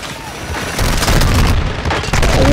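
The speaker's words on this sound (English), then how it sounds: "I heard somebody shoot." Gunfire and heavy booms from a Call of Duty: Modern Warfare II match, loud and dense with sustained rumbling blasts that swell after the first second.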